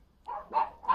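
A dog barks from inside a house, three sharp muffled barks in quick succession, fairly close but walled off, with no talking over them.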